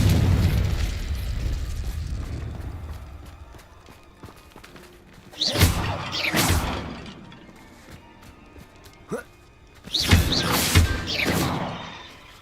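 Confringo blasting spells explode in Hogwarts Legacy, two loud booming bursts each with a quick double crack and a rolling tail, separated by a quieter stretch with a single sharp pop.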